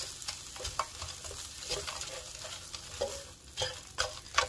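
Cauliflower rice cooking in an oiled pan, a soft sizzle under repeated scraping and stirring strokes of a utensil at an uneven rhythm, close and fairly quiet, with no talk.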